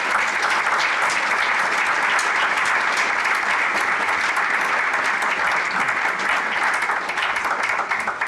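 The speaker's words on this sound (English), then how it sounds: "let us give a round of applause to Olaf for this" Sustained audience applause at a university inaugural lecture, steady dense clapping from a large crowd lasting several seconds without any speech.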